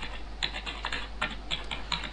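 Typewriter keystroke effect from a Flash CS5.5 text animation, sped up to double frame rate: rapid, evenly spaced crisp clacks of keys in a quick steady rhythm, close and clear with no voices.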